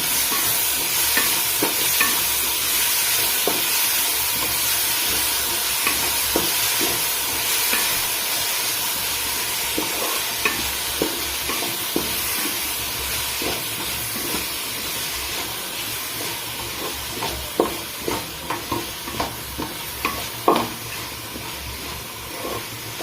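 Onions fry for a chicken curry in a pan with a loud, continuous sizzling hiss, punctuated by occasional spatula scrapes and clicks, close and steady, with no talking.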